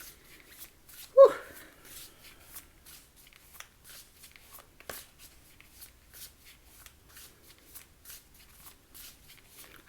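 Tarot cards are shuffled by hand in a quiet room, soft rapid riffles and slides repeating in short bursts, with one louder knock early on.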